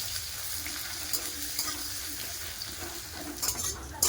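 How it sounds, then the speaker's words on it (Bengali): Onions browning in oil in a wok, a steady sizzle with intermittent spatula scrapes and clinks against the metal, growing a little busier toward the end. "পেঁয়াজ লাল করে ভাজা হয়ে গেছে"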